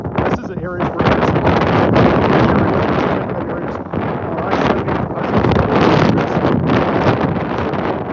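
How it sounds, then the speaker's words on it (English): Strong blizzard wind roars and buffets around the corner of a building in Kansas, loud and gusty throughout with heavy microphone wind noise and surges of turbulence. "It's like the wind vortex coming around the corner of the building here."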